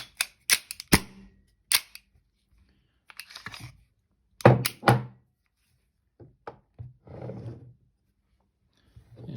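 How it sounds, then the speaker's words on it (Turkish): An ASG M91A Beretta airsoft pistol, metal-bodied, dry firing: sharp isolated snaps and clicks spaced irregularly, with quieter handling clatter and faint mechanical rustles between them, close and fairly soft. "Bir daha boşa bir atış yapalım."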